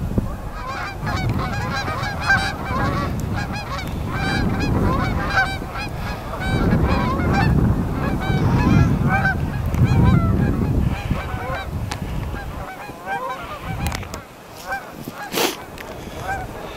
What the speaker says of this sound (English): A lot of geese on and off the river today.